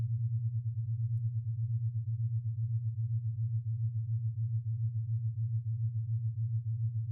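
Steady low brain fitness background tone aimed at theta, a continuous pure hum with a gentle pulsing beat that stays even and unbroken from start to finish, with no voice over it.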